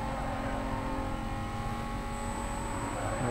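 A car engine screams at high, steady revs in the 2005 racing game Need for Speed Most Wanted, loud and constant with a faint high whine on top and no talking.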